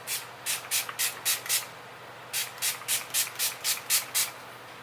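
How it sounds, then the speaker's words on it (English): Too Faced Hangover 3-in-1 setting spray misted from a pump bottle in a quick series of about six short hissing sprays, a pause, then about seven more, close and clear with no talking. "I'm going to go ahead and spray a little bit of some setting spray"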